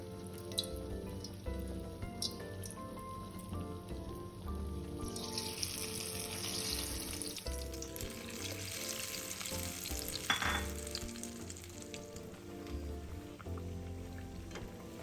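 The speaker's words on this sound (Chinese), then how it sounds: "直接放入油炸" Batter-coated nian gao rice cakes deep-frying in oil make a dense, bubbling crackle that swells into a brighter hiss midway, steady and close, with a few light knocks and no speech.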